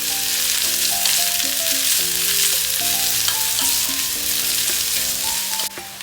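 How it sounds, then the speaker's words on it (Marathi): Chopped small onions sautéing in a pan for a jackfruit sabji, a steady broadband sizzle with occasional stirring scrapes, under a continuous background of tonal music. "गुलाबीसर रंगावर आपण हा कांदा परतून घेऊया."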